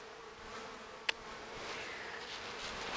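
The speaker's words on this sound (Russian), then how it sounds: "Вот у меня улей с пчелами." Honeybees hum faintly around a hive, a soft steady drone with one brief sharp tick partway through.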